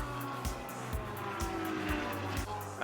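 Porsche and Audi race cars charge uphill after sweeping through a series of S-bends, engines roaring loud and close with rising and falling revs and periodic gear-change pulses throughout.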